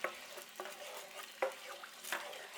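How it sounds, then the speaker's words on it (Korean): Spatula stirring kkanpunggi sauce in a pan over medium heat, soft scraping strokes recurring every second or so over a faint sizzle, close and quiet with no talk. "설탕이 다 녹으려면 주걱으로 살살 저어주세요."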